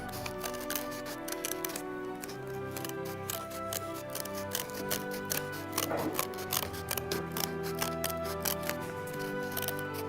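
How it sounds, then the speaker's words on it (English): Scissors cut around the line of a paper plate with steady snipping and crisp paper rustle, close and fairly quiet, continuing for several seconds with no one talking. "I'm going to cut all along the line right here until all I have is the outer part of the paper plate"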